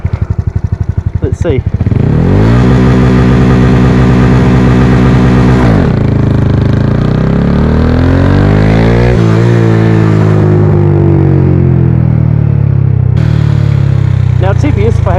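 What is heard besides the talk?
Honda Wave 125i underbone motorcycle engine revving at launch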